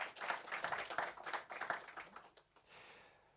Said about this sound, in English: A round of applause for Councillor Lulama Tidi Odili